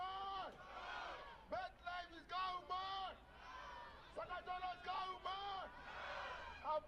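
At a soccer sevens tournament, a stadium crowd shouts and cheers in rhythmic bursts behind a loud, chanting lead voice. It sounds fairly distant and low in level overall.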